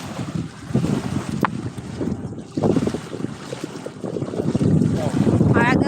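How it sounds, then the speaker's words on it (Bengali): Strong waves churn on the Ganges during a tidal surge under a cloudy sky, a continuous rough wash of water heavily buffeted by wind noise, with a voice briefly audible near the end. "প্রচণ্ড ঢেউ দিচ্ছে গঙ্গায়"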